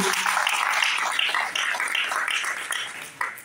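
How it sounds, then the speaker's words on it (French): Audience applause, a dense patter of many hands clapping at moderate volume for a few seconds, thinning slightly toward the end. "elles aussi, on peut les applaudir"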